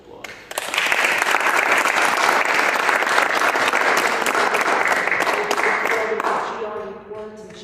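Audience at a Center for Global Responsibility gathering breaks into sustained applause, dense steady clapping filling the room for about six seconds before thinning out near the end.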